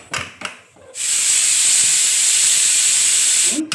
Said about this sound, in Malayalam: ഗ്യാസ് നമ്മൾ ഗ്യാസ് കത്തിച്ചു എന്നിട്ട് അതിലേക്ക് ഈ കുക്കർ വെച്ചു